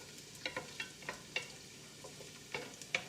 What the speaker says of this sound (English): the garlic is sizzling.